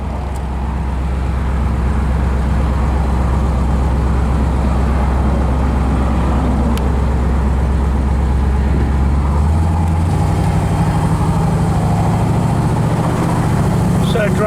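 Steady engine drone and road noise from a 1968 Chevrolet Camaro cruising on the freeway, a continuous low rumble that holds even and then shifts slightly in pitch near the end, with no talk over it.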